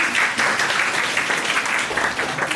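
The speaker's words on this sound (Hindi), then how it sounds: "ताली बजाते हैं" A room of attendees at an entrepreneurship session clapping together, a dense, steady burst of applause lasting a couple of seconds, close and fairly loud.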